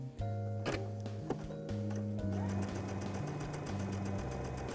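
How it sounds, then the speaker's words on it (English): A sewing machine stitches a hem on knit t-shirt fabric, its motor humming steadily with a rapid ticking rhythm across several seconds, close and clear, with music playing underneath. "So let's go. Let's sew."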